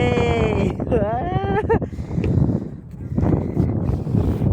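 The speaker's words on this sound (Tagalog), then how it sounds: "Malakas na naman ang hangin" Strong wind roars against the microphone in heavy gusts during OPGW power line cable work, with a tonal whine sweeping up and down near the start and people talking underneath.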